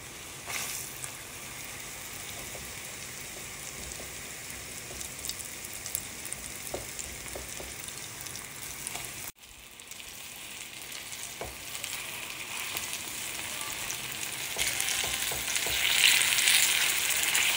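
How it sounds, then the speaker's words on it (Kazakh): Syrniki, Kazakh-style cottage-cheese pancakes, sizzle steadily in a hot frying pan, a continuous close crackle with occasional soft spatula taps as they are flipped, briefly dipping midway then growing louder toward the end. "Қызып тұрған табаға 2 жағын аударып отырып, қуырып аламын."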